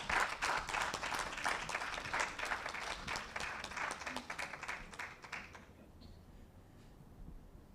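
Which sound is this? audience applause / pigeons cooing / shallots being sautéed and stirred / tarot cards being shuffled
audience applause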